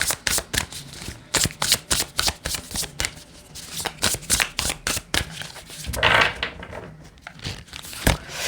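Tarot cards are shuffled close by in loud, rhythmic riffling bursts, steady flicks repeating through the clip with one longer rustling spell partway through.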